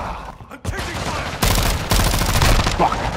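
Gunfire in Call of Duty: Modern Warfare II team deathmatch on the Shipment map, with loud, dense bursts of shots that come thicker and heavier in the second half.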